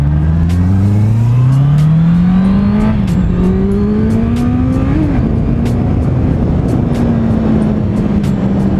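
A 2018 Honda CBR650F motorcycle engine revs up close and steadily, pitch climbing, dipping briefly at two gear shifts, then holding a high, droning whine.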